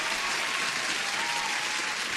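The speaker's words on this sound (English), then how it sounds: "Let me give you an applause." A canned applause sound effect plays on a day-trading livestream, a steady wash of crowd clapping, loud and even, filling the short moment with no speech.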